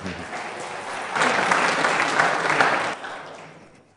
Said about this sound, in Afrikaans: Kom ons gee vir hom 'n hande klap